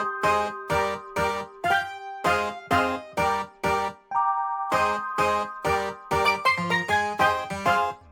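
Electric piano chords with a slight phaser sit in a 2000s R&B beat, struck in short rhythmic stabs with a few held notes between, clear and close with no talking.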